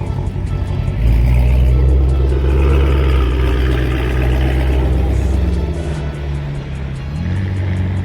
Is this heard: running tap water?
no